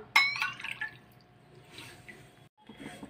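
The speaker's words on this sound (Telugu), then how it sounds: "ఇప్పుడు 1/2 కప్పు వాటర్ వేసుకోవాలి ఇందులో।" Half a cup of water is poured into a pan of sugar, making a brief splashy trickle that tails off into quieter drips.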